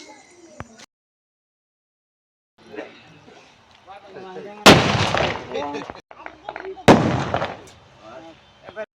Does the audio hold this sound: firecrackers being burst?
yes